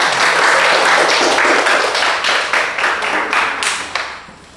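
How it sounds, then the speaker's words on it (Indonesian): Enthusiastic applause from a room full of people, dense clapping that carries on steadily and then gradually thins out. "Yuk sekali lagi tepuk tangan untuk semua."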